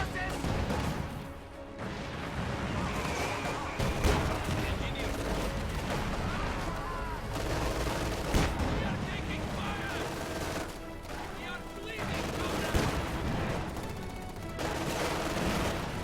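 Gunfire and machine-gun bursts crackle through a real-time strategy video game battle, with booms and crashes mixed in, steady and dense throughout while a commentator talks over the action.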